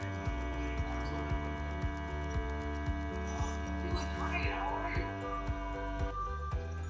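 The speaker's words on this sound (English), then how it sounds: "So it's first vacuuming out the air, and then it will go to the seal mode" A Cook's Essentials compact vacuum sealer pulls air from a bag of jalapenos, producing a steady loud motor hum with a regular ticking pulse throughout, close up.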